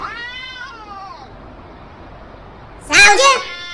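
A cat meows in two stretched, wavering calls, with a longer drawn-out meow near the start and a louder, rising yowl near the end, close to the listener over a quiet background.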